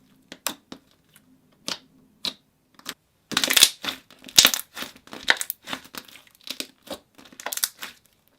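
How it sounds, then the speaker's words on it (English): Soaked chalk being cut, with a series of crisp, crunchy snaps and crumbles, sparse at first, then denser and louder in the middle and later stretches, close up with no talk. "You had to soak the chalk to make it kind of like okay to cut"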